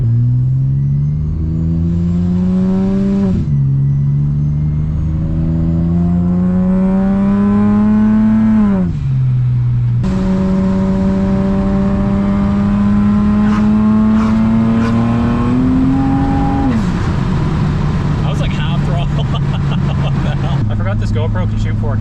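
A boosted Acura TL-S with a new intake drives and accelerates through the gears, its engine note climbing in pitch over several long pulls with shifts between them, loud and close, with rising whistle and whoosh from the forced induction.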